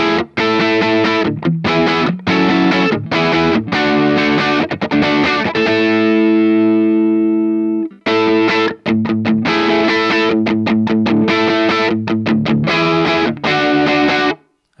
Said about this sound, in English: this is my favorite overdrive I have ever tried for my bridge pickup